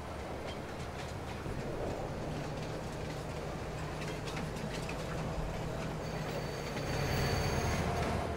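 A train runs in Farming Simulator on an Alaska map with a continuous rumbling roll, clicking and faint squealing wheels, steady and fairly close. The sound grows a little louder near the end, with no talking.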